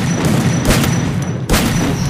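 Two heavy booming blasts from an M1014 shotgun in a shooter video game, loud and close, spaced about a second apart over a constant game background.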